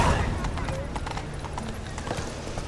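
Roach the horse's hooves clip-clop in a steady walking rhythm through Witcher 3, moderately close, with other game sounds and voices in the background.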